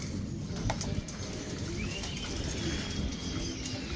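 Racing pigeons coo and shuffle while they feed, with soft coos and faint chirps over a continuous low, busy background of birds, and a few brief louder flutters.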